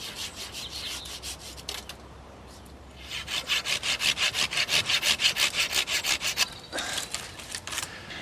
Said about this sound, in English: I'm pruning this fig to make the most of its structure and form